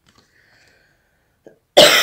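A single loud cough bursts out near the end after near silence.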